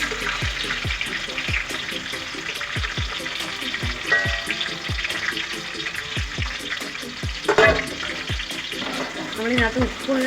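Garlic fries in fresh oil with popped fenugreek seeds for pickle, a steady close sizzle dotted with regular crackling pops and a few brief clinks of stirring.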